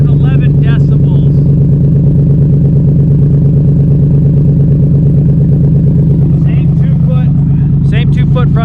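A Cobra Daytona engine with a new exhaust runs loud and close, holding a deep, steady, throbbing drone without a break. Faint higher chatter and rattles rise briefly near the start and end.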